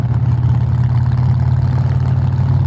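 A deep, steady motorcycle engine rumble burbles close by without a break, loud and throaty through a performance exhaust, like idling.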